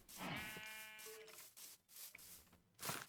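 Sheep in Minecraft bleat in a wavering, harmonic cry near the start, then a few softer scattered noises follow with no talking.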